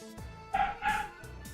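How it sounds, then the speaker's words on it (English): A dog barks at someone coming home, giving two short barks indoors, moderately faint, over a steady background hum. "I don't know why my dog Ozzy like barks so much, dude, when someone comes home"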